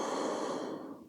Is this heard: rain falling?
no